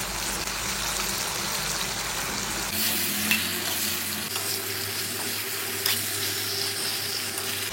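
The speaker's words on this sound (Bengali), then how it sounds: "এবার দিয়ে দিচ্ছি আলু।" Potatoes go into a pot of simmering chicken-leg curry, followed by close, steady sizzling and frying with stirring scrapes and a couple of sharp clinks, and no talking.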